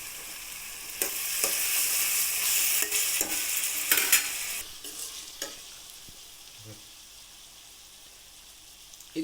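Onion and tomato pieces frying in a pan for Chittoor chicken curry: a soft, crackling sizzle with intermittent spoon stirring knocks that fades toward the end, no voices.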